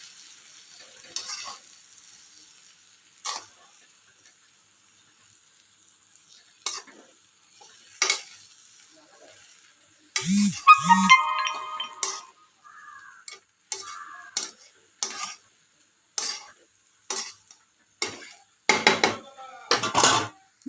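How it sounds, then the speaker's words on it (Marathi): Intermittent scraping and tapping of a spoon stirring crumbled chapati in a metal kadhai, irregular close strokes separated by quiet gaps and growing busier toward the end, with faint sizzling and no talking. "तर आपण मिक्स करून घेऊया."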